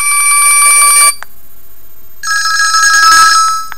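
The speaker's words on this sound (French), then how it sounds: "On va voir les différentes sonneries qu'il y a. C'est un son classique." A classic mobile phone ringtone from a simple senior feature phone (Mobiho Essentiel Le Classic Eco) plays loudly up close at maximum volume in two trilling electronic bursts separated by a short pause.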